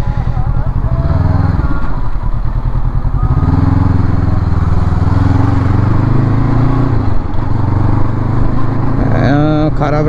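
Honda NX500 twin-cylinder motorcycle engine running steadily in fourth gear at low speed on a rough road, a loud continuous drone throughout with a person talking over it.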